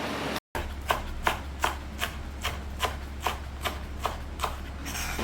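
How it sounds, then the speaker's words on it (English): Spring onion being sliced with a knife on a board, about a dozen crisp, evenly spaced taps at a steady unhurried rhythm, close and clear with no talk. "we'll be starting by slicing our spring onion"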